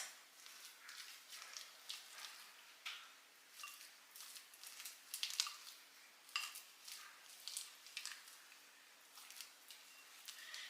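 Spinach being mixed into a cheese mixture in a bowl, with faint, irregular scraping and clinking of a utensil against the bowl in short repeated strokes, heard alone.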